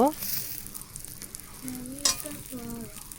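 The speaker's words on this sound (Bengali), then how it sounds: "কড়াইয়ের মধ্যে আমি বেগুন ভাজাটা বসাই দিছি" Eggplant slices fry in a little oil in a wok, a soft continuous sizzle up close with a few faint scrapes and one sharp clink partway through.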